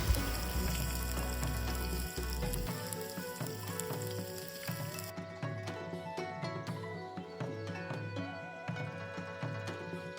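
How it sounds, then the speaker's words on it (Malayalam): Ginger, garlic and chilli paste sizzles in hot oil in a pan for a prawn roast, a steady frying hiss that thins out partway through, with background music playing over it. "ഇഞ്ചി, വെളുത്തുള്ളി, മുളക് പേസ്റ്റ് നമ്മൾ എണ്ണയിലോട്ട് ഇടേണ്ടതാണ്"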